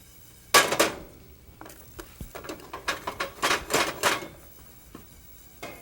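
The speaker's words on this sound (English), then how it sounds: "We've got these in a heavy pan on a full flame, and we're going to dry roast them" Peppercorns and poppy seeds dry roasting in a heavy pan over a full flame, heard as a run of close, crisp clicks, rattles and scrapes in uneven bursts.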